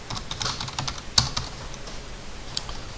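Computer keyboard typing while AutoCAD commands are entered, with a string of fairly quiet clicks and one sharper, louder keystroke for Enter partway through, then sparse taps.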